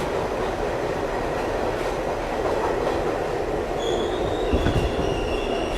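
A hot New York City subway car rolls along with its door open, giving a loud, steady rumble of wheels and rails and faint high squeals from the wheels near the end.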